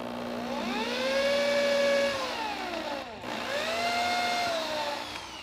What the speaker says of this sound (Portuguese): Agora eu vou usar uma broca fina.